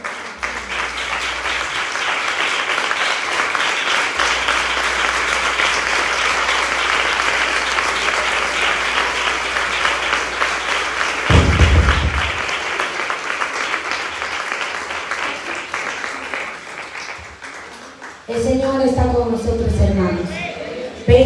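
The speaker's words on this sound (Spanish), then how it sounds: "de los aplausos al Señor" A church congregation in San Pedro Sacatepéquez, San Marcos, claps together in loud, continuous applause for about eighteen seconds before it dies down and a voice begins speaking.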